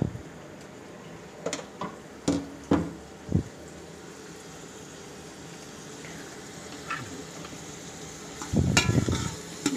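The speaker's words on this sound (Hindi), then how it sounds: "उसके बाद जो हमने थोड़े से प्याज काटे थे वो प्याज हम उसके अंदर ऐड कर देंगे" Chopped onions go into hot oil in a pan for an arvi gosht curry, giving a sizzling hiss with scattered clinks and stirring knocks, swelling into a louder burst of frying near the end.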